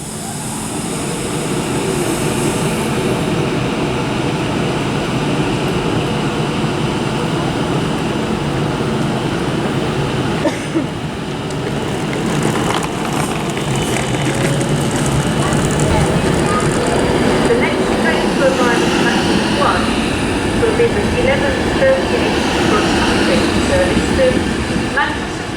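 A West Coast Main Line train pulls out of Birmingham International bound for London, a steady loud rumble of wheels and traction that holds for the whole stretch with some rising whine, people talking over it at times.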